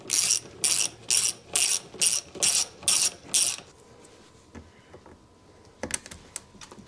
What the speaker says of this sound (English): I decided to use a hand wrench